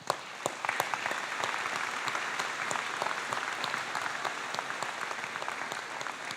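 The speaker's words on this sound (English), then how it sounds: "let's still honor them and give them a round of applause" An audience at a college commencement ceremony claps for a group of graduates. Individual hand claps stand out clearly in a moderate, steady patter that stays fairly even throughout.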